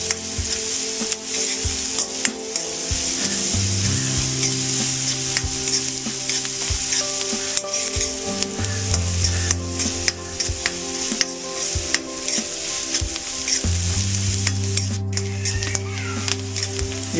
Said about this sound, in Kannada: ಈಗ ಇವು ಉಳ್ಳಾಗಡ್ಡಿ ಸ್ವಲ್ಪ ಕಾಳವ,